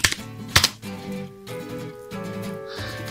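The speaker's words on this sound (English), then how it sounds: "So I'll be typing in the passphrase." Keys clatter as a passphrase is typed on a computer keyboard, a few sharp clicks at the start followed by softer tapping under a steady background tone.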